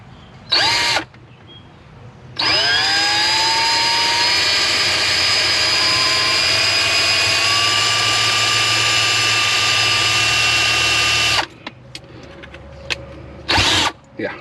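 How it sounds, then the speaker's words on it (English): A power drill bores a hole in the door of a 2017 Ford Edge. A short burst comes first, then a long, steady, high whine that rises in pitch as it spins up, then one final quick burst. "Hole drilled, but I know it's not big enough."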